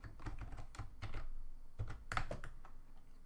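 Keys clatter in quick, uneven bursts as code is typed on a computer keyboard during a Rust programming session, close and moderately loud with brief pauses between keystroke clusters.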